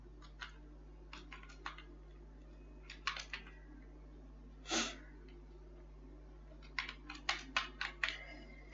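Computer keyboard keys tapped while filling in an Excel salary sheet, with scattered single clicks and then quick bursts of several keystrokes, close and crisp over a quiet, steady background hum.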